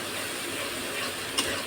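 Bele fish curry frying in a pan while being stirred, a steady close sizzle with a single sharp scrape or clink near the end.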